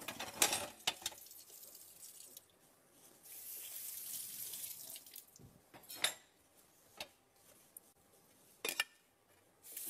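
Water running from a tap into a sink while dishes are washed, a broad steady rush with sharp clinks and knocks of utensils scattered through it, close and without talk.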